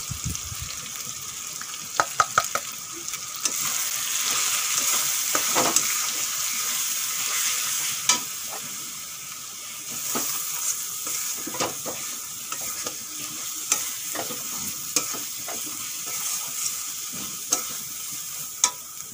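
Ground turmeric, chilli, cumin, coriander and Kashmiri chilli powders frying in a pan for prawn biryani give a steady sizzle with scraping stirs and a splash of water, fairly close and continuous.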